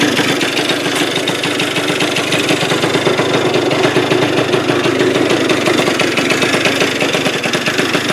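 A motorcycle engine with a carburetor needing a rebuild and ignition trouble idles close by, a loud, steady low chugging rumble with a fast even pulse and no pauses.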